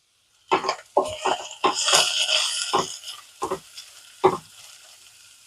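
Fenugreek leaves and turmeric frying in a pan, sizzling in short close bursts as they are stirred, with scraping strokes and pauses of quiet between.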